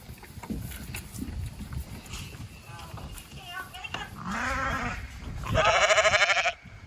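Goats at a farm fence bleat in loud, wavering cries, the first few short and scattered, then a longer bleat and a final strong, close one, while people talk in the background.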